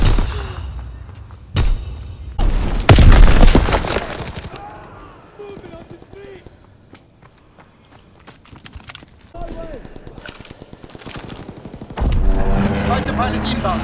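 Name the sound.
fighter plane strafing run gunfire, Call of Duty WWII video game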